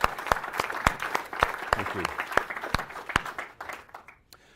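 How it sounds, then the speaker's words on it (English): Audience applause at a Dell EMC 14G launch event, steady clapping from a large crowd for several seconds that thins out and fades at the end, with a brief spoken thanks over it. "I'd just like to suggest a quick round of applause for our partners"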